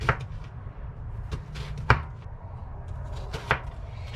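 A knife thuds onto a cutting board in a few scattered chops through an onion for salsa, close and fairly loud, over a low background hum.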